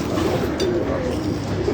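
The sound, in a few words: pigeons cooing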